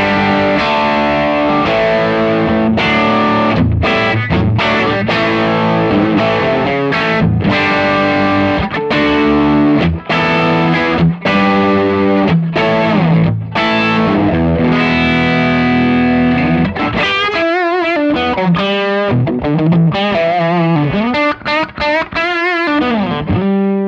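Distorted electric guitar through an overdrive pedal playing dense chords, loud and continuous, shifting to thinner bending lead lines in the last few seconds.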